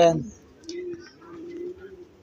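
Racing pigeons in a loft give soft, low cooing that rises and falls steadily after a short burst of other sound at the start, with faint bird chirps above.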